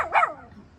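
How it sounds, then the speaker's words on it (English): A small female dog lets out one short, sharp bark close by, which fades quickly into quiet. "I do apologize for my noisy little dog. We'll teach her not to bark one of these days"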